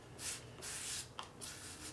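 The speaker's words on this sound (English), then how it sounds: "and I'll give it a spray." Aerosol cleaner hissing in several short bursts, close by, sprayed onto a Singer 500 sewing machine part, with brief pauses between them and a faint clatter partway through.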